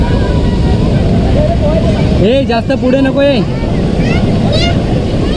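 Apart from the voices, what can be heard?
sea waves at high tide on a beach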